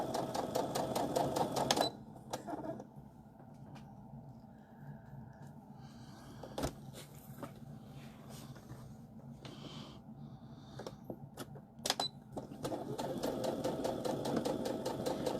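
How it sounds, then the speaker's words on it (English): A sewing machine with a quarter-inch foot stitches through thick layered fabric for a casserole carrier, running in loud steady bursts at the start and end with quieter gaps and clicks in between, close by and without talk. "I like to run the edge of my fabric at the edge of my machine"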